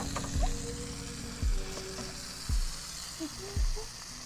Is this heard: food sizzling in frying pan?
yes